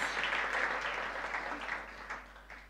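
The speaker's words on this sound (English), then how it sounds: "Let's give him a round of applause." Quiet applause from a church congregation after a guest speaker, a soft steady patter that gradually thins out, with a few distinct claps near the end.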